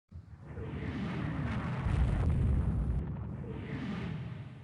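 Naval battle in the warship strategy game Rule the Waves 2, with heavy gunfire and deep rumbling explosions rolling together into a sustained booming barrage, moderately loud, with no voices.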